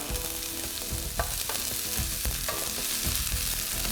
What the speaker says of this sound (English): and in with our red onion.